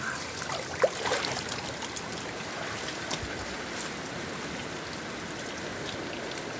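A river near Umpqua Hot Springs rushes steadily, a continuous broadband wash of flowing water that stays even throughout, with a few small splashes near the start.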